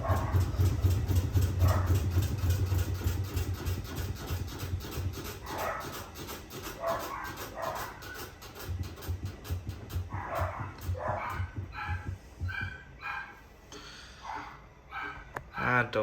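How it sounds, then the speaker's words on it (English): Several dogs bark in repeated bursts, some yipping and whimpering, over a steady low machine hum, with a person talking at points. "Dogs. Can't beat them."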